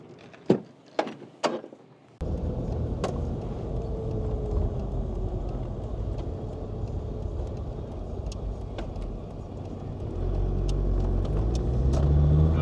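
A Land Rover Discovery TD5 with a freshly fitted LOF clutch sets off on a road test, with a few door thumps first and then a steady low diesel rumble and road noise building toward the end.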